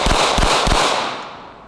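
A 9mm Glock 19 pistol fires three quick, close, sharp shots into a giant sandbox backstop, followed by a short fading echo.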